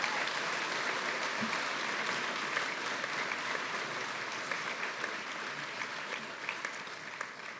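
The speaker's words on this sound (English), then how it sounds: "let's give them a nice round of applause." A large audience at a dental school white coat ceremony claps in a continuous, even roar of applause that holds steady throughout, fading slightly toward the end.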